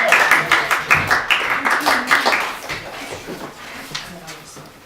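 Close, dense clapping from a school audience after a classics group's stage performance of the Bacchae bursts out at the start, then thins and fades over a few seconds as voices murmur.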